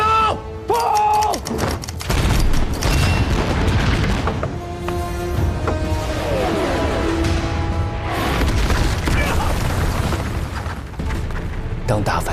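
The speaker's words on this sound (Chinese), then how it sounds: "当大反击的火箭炮摧枯拉朽地轰炸在敌人的阵地上时" Rocket artillery barrage in a war film battle scene, heavy booming explosions rolling continuously with dense rumble and bursts, loud and close, under a swelling orchestral score.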